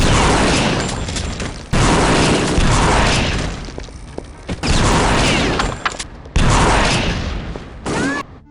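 Rapid bursts of gunfire from Kingpin: Life of Crime come in dense, loud volleys with brief gaps between them, mixed with heavy booming shots and mechanical clatter, and no one speaks.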